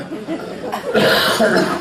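A comedian on stage at a comedy show coughs a few times close up, harsh rough bursts with a chuckle-like quality, loud and near.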